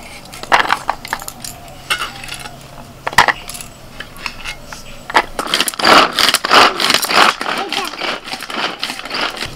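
Onions are finely chopped with a hand chopper in a home kitchen, starting as scattered taps and scrapes, then turning into a fast, clattering run of chops while people talk.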